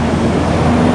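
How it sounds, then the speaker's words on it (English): Dense Bangkok street traffic with local buses, a loud, steady roar of engines close by with a sustained droning hum. "Local buses."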